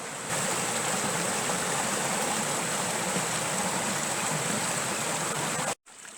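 Small woodland stream at the Mas brook near the Chavanon river in Corrèze, flowing steadily with a broad, close rushing wash that holds for about six seconds before cutting off abruptly near the end.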